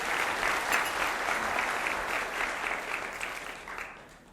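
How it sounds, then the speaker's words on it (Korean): An audience at an education office lecture breaks into sustained applause, dense clapping from a crowd that fades gradually toward the end, with no talk over it. "박수 좀 주시기 바랍니다."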